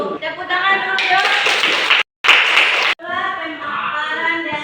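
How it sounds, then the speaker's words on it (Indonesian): A group of children in a classroom claps hands, producing bursts of rapid, overlapping clapping close by that briefly drop out, with children's voices mixed in. "Tepuk tangan dulu dong."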